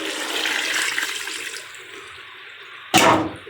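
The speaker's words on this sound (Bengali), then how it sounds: "এখন আমি পানি দিয়ে দিব" Water is poured into a pan of fried eggplant and potato, giving a steady rushing hiss that fades, then a sudden loud gush near the end, with no voices.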